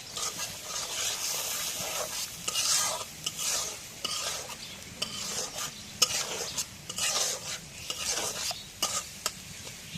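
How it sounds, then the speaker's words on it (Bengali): Spiced curry masala frying in a pan while being stirred, giving a continuous close sizzle with repeated scraping strokes and light knocks of the spoon; no talking. "সব কিছু মশলা টসলা দেওয়া হয়েছে এখন নাড়া দিই"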